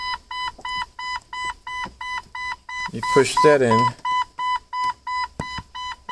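Regular electronic beeping repeats steadily from a 1997 Jeep TJ during a headlight switch install, about twice per second, with someone talking briefly over it midway.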